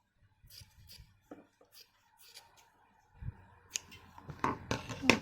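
Thread of a button loop on a formal dress snipped with scissors, a few small close snips and rustles, faint and sparse with quiet handling noise.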